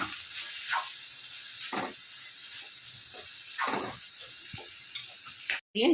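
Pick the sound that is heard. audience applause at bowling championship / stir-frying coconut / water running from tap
stir-frying coconut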